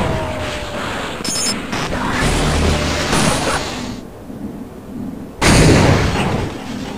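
Mini nuke grenades exploding in the video game Half-Life: booming, rumbling blasts roll through the first seconds, fade briefly, then a sudden loud, close detonation erupts near the end.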